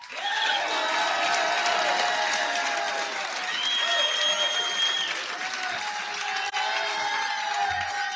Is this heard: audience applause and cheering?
yes